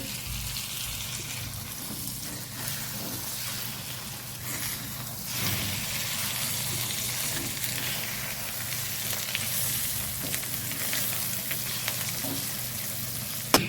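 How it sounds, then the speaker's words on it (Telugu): Egg bhurji frying in a pan gives a steady, continuous sizzle with a faint watery hiss and occasional soft stirring scrapes, close and fairly loud throughout, with no talking. "ఒక 5-6 మినిట్స్ మంచిగా వేగనివ్వాలి"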